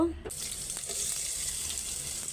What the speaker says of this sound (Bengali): কড়াই গরম হয়ে গেছে এখন তেল দিয়ে দিব